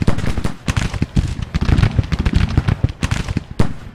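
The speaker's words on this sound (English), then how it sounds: "Good shooting, boys." Civil War infantry volley fire in the strategy game Grand Tactician at the Battle of Perryville: dense, ragged crackling of many muskets firing in rapid overlapping bursts, loud and continuous with a few heavier reports.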